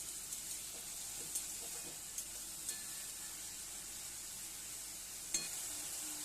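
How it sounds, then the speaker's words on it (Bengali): Potatoes sizzle steadily in a frying pan as they are stirred with salt, with a constant frying hiss and a few light scrapes and taps of the spatula against the pan. "লবণ দিয়ে খুব ভালোভাবে আলুটা নেড়ে চেড়ে নেবেন"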